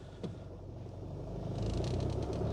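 A 2022 SsangYong Rexton SUV with automatic transmission pulls away, its low engine rumble swelling gradually from quiet to moderate inside the cabin, with no talking.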